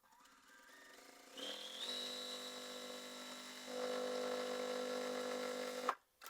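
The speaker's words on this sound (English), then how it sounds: "I like to sew all the way from the trim line to the trim line when I'm sewing these last couple." A sewing machine stitches a foundation paper-pieced quilt block, running steadily from trim line to trim line with a rising motor whine and shifting speed, then stopping abruptly near the end.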